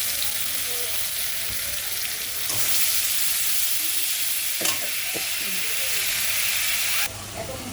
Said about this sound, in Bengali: এই পেঁয়াজ লঙ্কা হলুদ একসঙ্গে আমি ভেজে নিব তেলের উপরে।